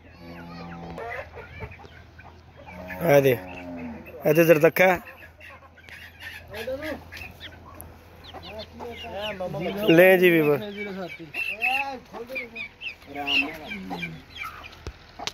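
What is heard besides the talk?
roosters and hens clucking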